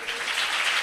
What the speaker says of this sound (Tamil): அப்போ எல்லாம் ஜோர ஒரு கைத்தட்டு கூட.